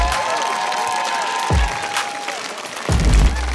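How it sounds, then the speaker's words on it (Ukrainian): A crowd claps and cheers loudly, steady applause throughout with a few whoops and shouts rising near the end. "оплески"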